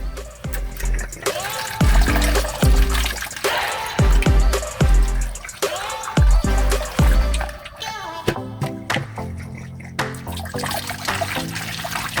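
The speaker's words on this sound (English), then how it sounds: "Then we put water into the bottle." Water is poured into a plastic bottle for a homemade chicken drinker, gurgling and glugging in repeated rising pulses, close and fairly loud, before settling into trickling and faint clinks.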